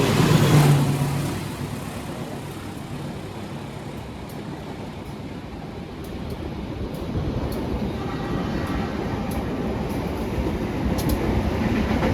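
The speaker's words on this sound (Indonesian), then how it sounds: "naik kereta ternyata pakai lokomotif yang vintage lagi" Inside the economy-class Sri Tanjung train in Indonesia, pulled by a vintage locomotive, a steady loud rumble of wheels and carriage with faint rhythmic clicks of the rails.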